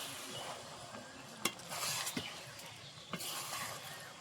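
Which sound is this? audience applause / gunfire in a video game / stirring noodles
stirring noodles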